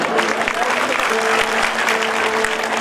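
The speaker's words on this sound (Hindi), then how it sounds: "समझ में आई तो ताली बजा दो" Audience at a live Bhagwat Katha gathering claps steadily on cue, a dense continuous patter of many hands with faint voices and a sustained tone underneath.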